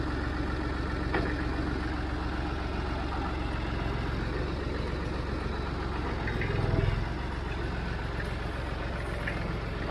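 Perkins three-cylinder diesel engine on a tractor idling, a steady low throbbing rumble with even pulsing, moderately close with a brief swell partway through and no talk.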